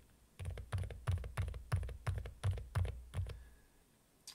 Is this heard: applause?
no